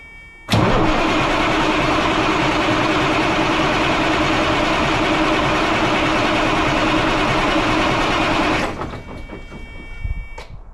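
A Peterbilt truck engine cranks without firing, a loud, steady starter-motor drone held for about eight seconds, then cutting off abruptly into quieter mechanical noise.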